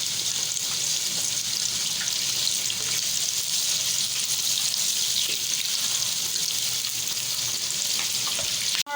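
Onions sizzle and fry in a pan for an aloo paratha filling, giving a loud, continuous crackling hiss that runs steadily throughout before cutting off abruptly at the very end.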